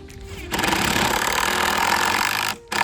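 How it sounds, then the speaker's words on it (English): A power drill whirs loudly and steadily for about two seconds, pre-drilling a wooden fence gate rail for hinge screws, stops, then gives one short final burst. "Before we screw the hinges, we are going to pre-drill them so that way we don't crack the rail"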